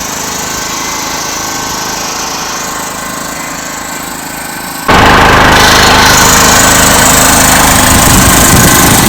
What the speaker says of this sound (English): we've got our newly fabricated, ugly but functional muffler, and we'll go ahead and give it a test